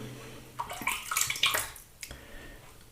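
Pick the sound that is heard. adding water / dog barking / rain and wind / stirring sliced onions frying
adding water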